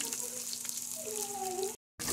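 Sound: ginger and garlic sizzling as added to frying pan

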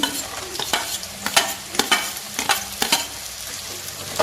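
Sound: carrot pieces added to frying onions and green chillies

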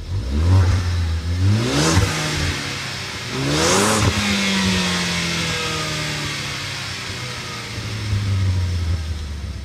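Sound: Ford Focus ST engine revving

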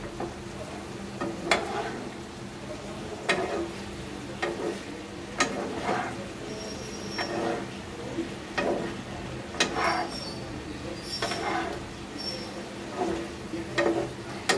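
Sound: stirring a cooking vegetable curry (potato, pointed gourd, papaya, teasel gourd)

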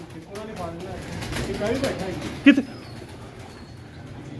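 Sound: pigeons cooing and flapping on a rooftop

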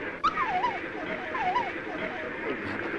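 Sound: dog barking and whimpering

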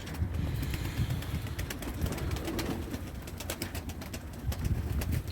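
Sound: pigeons cooing

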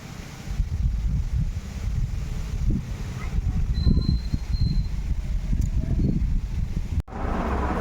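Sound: breeze blowing outdoors

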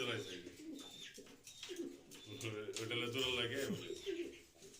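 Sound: pigeon cooing

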